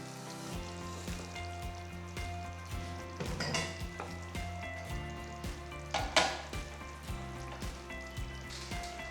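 Vegetable masala simmers and sizzles steadily in a pan as green peas are added, with soft stirring clatters and a few louder bursts of bubbling, close and continuous with no talking.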